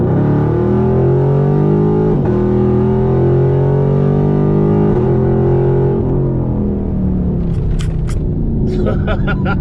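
A Chevrolet Camaro SS fitted with a ported throttle body accelerates hard, its loud engine drone climbing steadily through gears with brief dips at each shift, heard from inside the car.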